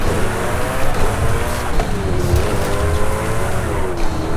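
A Koenigsegg Jesko in Forza Horizon 5 revs hard in a loud, sustained engine howl, rising and falling through gear changes with a faint tire squeal.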